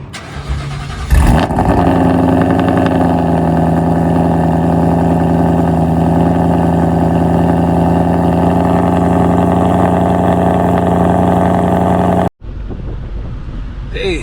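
A 1000+ horsepower Whipple-supercharged Mustang GT cold-starts with a sharp burst of cranking, then settles into a loud, steady, rumbling idle close by for about ten seconds before cutting off abruptly, with wind noise in the background.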